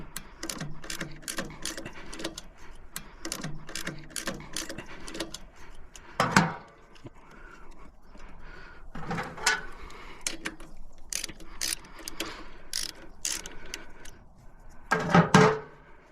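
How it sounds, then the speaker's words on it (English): Rapid runs of dry ratchet clicks from a 10mm socket wrench backing bolts out of a Craftsman LT1500 riding mower, close and fairly quiet, in several bursts with short pauses and a louder clatter near the end. "take the 10mm socket, take off these 2 10mm bolts here."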